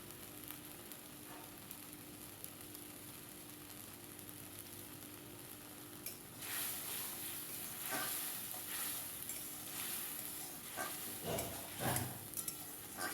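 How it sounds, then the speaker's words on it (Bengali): Spice paste with salt, turmeric and chili powder sautéing in a pan while cooking chhanar kofta, a soft steady sizzle with scraping stirs growing louder and busier in the second half. "ভালো করে এটা একটু কষিয়ে নেব"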